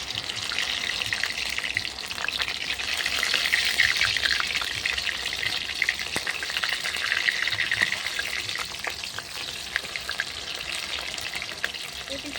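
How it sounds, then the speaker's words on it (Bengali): Battered paneer pieces fry in hot oil in a kadai over a clay stove, giving a steady, close, dense sizzle with small crackles throughout and no talk. "ভেজে নেবো সেটাগুলো লাল করে ভেজে নিয়েছি"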